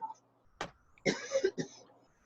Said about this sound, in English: Just a minute, I got